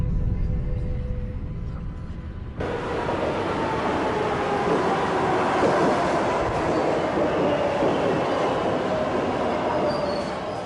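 An M subway train rumbles into Fresh Pond station in Queens after a quieter stretch, then a loud, steady roar of wheels on rails with some screeching continues close by.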